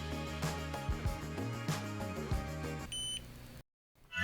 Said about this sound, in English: You hear the satisfying BOBOVR beep.